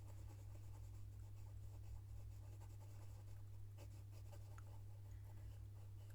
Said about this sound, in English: Just that round circular motion with the pencil.